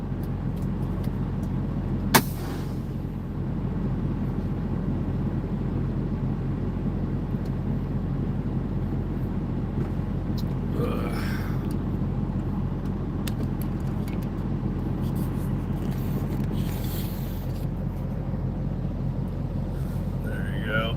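A truck engine idles in a tight lot, a steady, deep rumble running unbroken from start to finish, with one sharp click early on.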